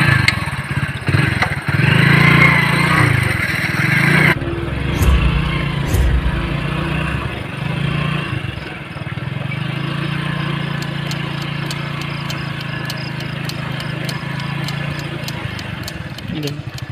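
A motorcycle engine runs on a road at night. It throbs loudly at first, then idles in a steadier mid-pitched chug with a few clicks and knocks, and voices speak over it.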